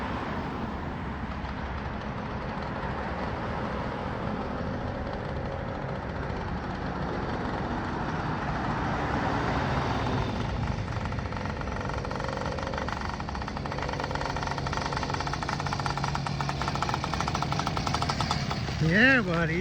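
A freshly built 80cc motorbike engine with new carburettor, fuel line and CDI fires up and runs with a rough, rapid chattering beat that grows denser and louder halfway through, with people talking faintly over it.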